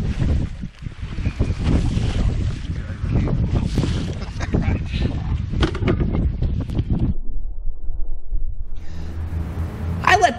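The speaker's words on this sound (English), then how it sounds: "when it's really windy, as it was on this day" Strong wind buffets the microphone out on Houghton Lake while fishing for smallmouth bass from a boat in fall, a loud continuous roar with gusts, easing near the end as splashing and a few low sounds come through.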